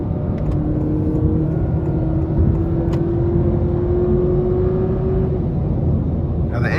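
A 2023 Honda Accord Hybrid Sport in sport mode drones steadily from inside the cabin, its engine note rising slowly in pitch as the car accelerates, loud and continuous with road noise beneath.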